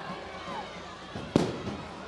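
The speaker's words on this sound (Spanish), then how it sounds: "Fuegos artificiales." A single sharp firework rocket burst cracks at a Three Kings parade in Los Palacios y Villafranca, a brief loud bang over steady street crowd noise.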